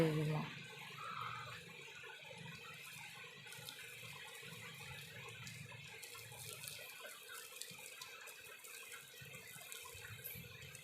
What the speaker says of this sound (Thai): ล้างตัวให้คุณยายนะคะ